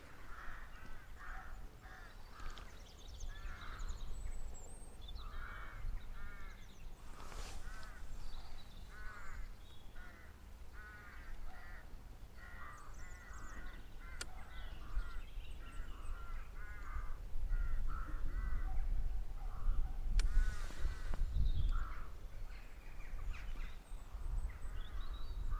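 Crows caw repeatedly in the open countryside around a village church at Inkberrow, rhythmic calls in short bursts scattered across a steady outdoor background with wind and occasional thumps, no talk.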